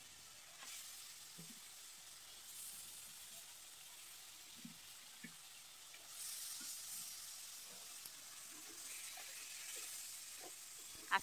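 Fish heads and tails fry softly in spice paste for a rohu curry with papaya and potato, making a faint continuous hiss with scattered small pops and light stirring.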